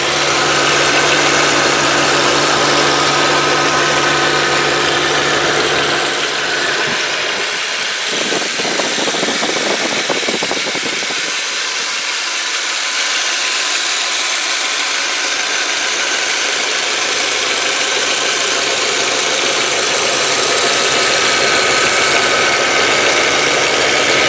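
The 1.8-litre turbo four-cylinder engine of a 2003 VW Passat sedan idles steadily at close range, a constant mechanical hum with a brief rougher stretch in the middle.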